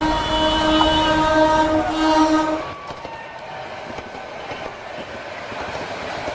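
A Satavahana Express passenger train at a railway station sounds a loud, sustained multi-tone horn for about two and a half seconds, followed by a steady rolling rumble of the carriages.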